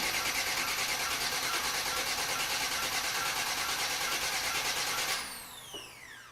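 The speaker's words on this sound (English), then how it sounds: "I'm going to hit my starter for a few seconds. That'll get the oil circulating." A car engine spun by its starter for several seconds to circulate oil before firing, giving a steady loud broadband whirring drone that cuts off abruptly near the end, leaving a quieter tail.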